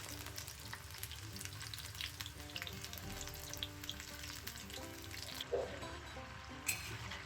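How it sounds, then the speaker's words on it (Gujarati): Samosas filled with suran (elephant foot yam) deep fry in oil over a medium-to-high flame, making a continuous soft crackling sizzle with a few brief pops near the end and no talking. "ગોલ્ડન બ્રાઉન થાય ત્યાં સુધી આપણે ફ્રાય કરીશું ગેસ મીડિયમ ટુ ફાસ્ટ રાખીશું"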